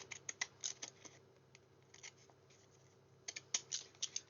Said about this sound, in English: Always cut on past the end with your scissors.